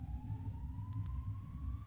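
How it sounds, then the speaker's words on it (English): A faint, distant siren wails steadily through a tense horror video game scene, a thin rising tone under a low rumbling ambience with no talk. "Is that an ambulance siren? Why is it so distant?"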